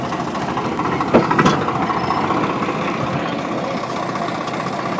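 A tractor engine idles in a low, steady rumble throughout, with a couple of brief clanks in the middle.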